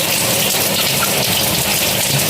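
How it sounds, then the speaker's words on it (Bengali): Steady, dense rainfall keeps up an even hiss at full strength for the whole stretch, loud and close, with no voices over it. "বৃষ্টি"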